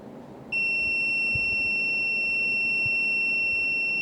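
A digital multimeter set to continuity mode gives a steady, sharp electronic beep when its probes bridge an electrical fuse, sounding continuously after a short quiet start.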